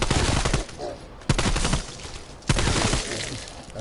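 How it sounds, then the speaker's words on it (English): MP5 and AK gunfire in Call of Duty Cold War comes in loud, close rapid bursts, with three sharp onsets at roughly one-second intervals and sustained automatic fire between them, with no talking. "I'll only be using MP5 and AK."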